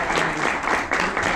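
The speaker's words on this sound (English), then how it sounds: "Let's give a big round of applause to Gaurav." An audience at a design talk gives a brief burst of applause, a dense, even wash of many hands clapping at close range.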